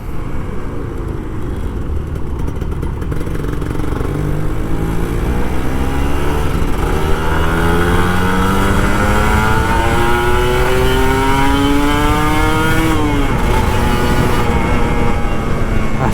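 A Kawasaki Ninja RR two-stroke motorcycle rides through Jakarta on a commute, its engine loud and close, revving and climbing through rising pitch sweeps with a gear change near the end, steady and continuous with no talk.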